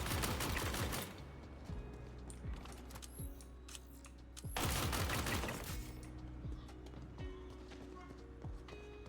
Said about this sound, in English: This gun just has a satisfying amount of stopping power to it.